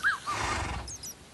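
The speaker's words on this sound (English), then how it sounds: "I am about to hit this horse with my sword right now." A horse in a Minecraft-style survival game gives a short whinny early on, with a sharper second call after it, over a steady rumbling background and brief rustles.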